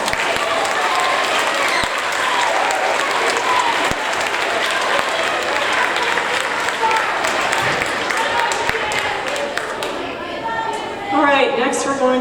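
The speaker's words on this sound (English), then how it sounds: "let's give them a round of applause" Audience applause at a sixth-grade school awards ceremony, sustained dense clapping from a large crowd in a hall that fades near the end as a voice begins speaking.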